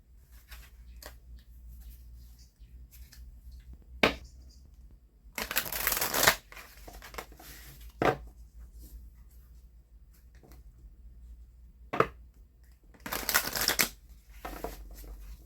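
Quick riffle shuffles of a card deck, two loud bursts of rapid papery flutter separated by softer card taps and handling noises, close and alone with no talk.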